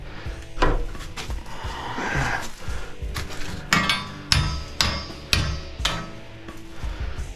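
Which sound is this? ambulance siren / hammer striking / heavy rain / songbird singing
hammer striking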